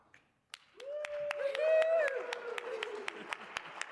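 Conference audience gives a tepid response, scattered clapping and a few hoots and shouts, moderately loud and fading over a few seconds, with a short whistle-like voiced cheer in the middle.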